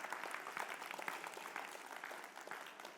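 An audience claps steadily at a talk on the sacred, a dense, even round of applause from many hands lasting a few seconds, with no speech over it.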